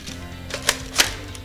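Pellets from an M690 airsoft shotgun smack into a paper target, a few sharp papery snaps, two of them louder and close together, over a low background hum with no talking.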